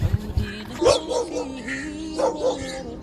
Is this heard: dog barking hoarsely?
yes